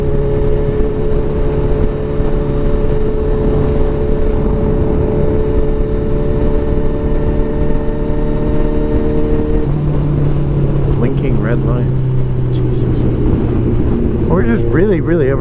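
A 2016 Kawasaki Ninja 1000 motorcycle rides through traffic with a steady, moderately loud engine drone and wind rush, the pitch shifting midway, while someone talks over it throughout.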